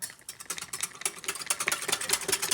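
A spoon or small whisk rapidly clinks and scrapes against a cup while cocoa powder is stirred into about 200 ml of hot water, a quick busy ticking rhythm, close and fairly quiet, with no talk.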